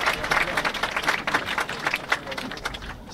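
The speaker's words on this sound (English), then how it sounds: "Let's give them a big cheer here on the grandstand." Spectators in a grandstand at a polo match clap and cheer, a steady patter of applause from a crowd that carries on throughout, with some voices mixed in.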